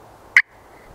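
A single short, sharp scratch from a turkey pot call worked with a striker, heard close and alone against a quiet background.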